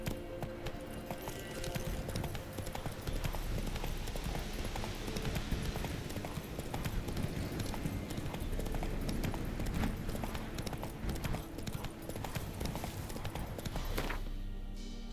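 Hooves of Roach, Geralt's horse in The Witcher 3, clatter in a steady fast gallop, loud and continuous for most of the run before easing off at the end, with a faint voice now and then.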